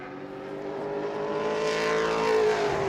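A Pro Late Model race car qualifying at New Smyrna roars around the track, its engine note climbing steadily and growing louder with a droning, high-pitched whine that holds throughout.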